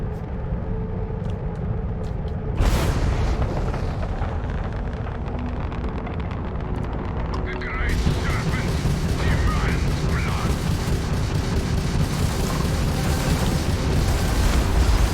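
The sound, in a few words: missile explosions in the video game Starfield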